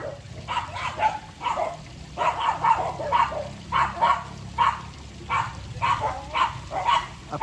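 A Shih Tzu gives a run of small high-pitched barks indoors, about a dozen yappy bursts in an uneven rhythm, moderately close and heard alone without talking.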